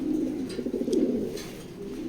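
Racing pigeons coo close by in a steady, low, throaty murmur that runs unbroken, with a few soft fluttering accents and no voices.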